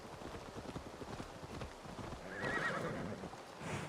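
In the video game Assassin's Creed Valhalla, a horse gallops with steady rapid hoof clops and gives a brief whinny midway, all fairly faint and under ambient game noise.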